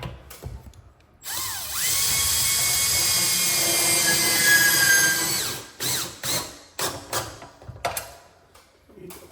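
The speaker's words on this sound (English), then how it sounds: "we are good to put in a few more fasteners here" A power drill drives fasteners while a Stanley Magic Force automatic door opener is installed: one sustained high whine of about four seconds, then a string of short bursts and ratcheting stops, loud and close.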